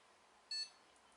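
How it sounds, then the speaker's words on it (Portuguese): A single short, faint electronic POST beep from a motherboard as a computer powers up on a repair bench, clean and high-pitched over a quiet background. "Olha aí, gente, o bip."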